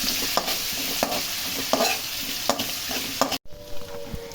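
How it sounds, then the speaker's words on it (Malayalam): Coconut, ginger and garlic sautéing in a pan for a chicken curry: a steady close sizzle with periodic spoon strokes, cutting off abruptly near the end. "അതിനുശേഷം ഇഞ്ചി, വെളുത്തുള്ളി ഇതൊക്കെ അരിഞ്ഞ് വെച്ചിട്ട് ഇട്ട് കൊടുക്കുക. അതൊന്ന് നന്നായിട്ട് വഴറ്റിയെടുക്കാം."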